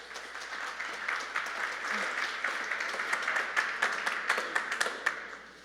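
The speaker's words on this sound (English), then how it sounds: "Please give her a round of applause." Audience applause at a panel on pro sports and esports, continuous clapping from a crowd that builds to sharper, more distinct claps toward the end.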